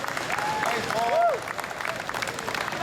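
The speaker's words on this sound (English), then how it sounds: "Let's give Paul a huge round of applause." An audience at a high school culinary arts competition closing ceremony applauds for Paul, a brief burst of crowd clapping under a voice at the microphone.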